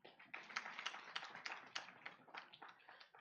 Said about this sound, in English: You should clap for the female.